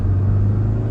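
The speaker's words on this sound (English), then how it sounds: "this car has an Venturi intake, and you can hear like the car sucking in all the air" A Honda Civic Type R FK2 with a Venturi intake gives a steady, close, deep engine drone and rumble, loud and continuous for under a second, with no talking.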